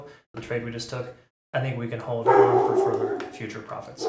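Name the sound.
dog barking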